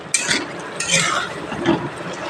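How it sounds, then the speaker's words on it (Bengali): Spoon scraping and stirring through elephant foot yam curry with coconut, spices and ghee in a pan, a few short, moderately loud strokes with light clinks against the metal. "এইভাবে এই মশলাগুলো দিয়ে ভালোভাবে নাড়াচাড়া করে"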